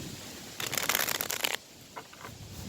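A brief burst of tarot cards being riffled and shuffled up close outdoors in a little wind, lasting about a second, then a softer short riffle against quiet background.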